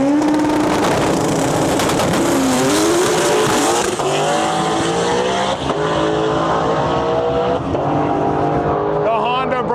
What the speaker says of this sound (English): Mustang up in our lane. Little all-wheel drive Honda, far side of the track.